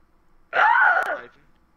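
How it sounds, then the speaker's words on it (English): A boy's short, strained rage scream bursts out during an Xbox One online game of Ark, a single loud breathy yell lasting under a second, with no talk around it. "that's his rage scream"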